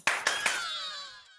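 Three quick, crisp hand claps land close together, each one ringing out with a bright metallic shimmer that fades slowly.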